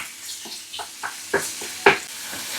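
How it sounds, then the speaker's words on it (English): Bacon and spring onions fry in a pan, a soft sizzle broken by several scraping stirs that grow louder toward the end, close up and with no talking. "so it should stop frying so aggressively."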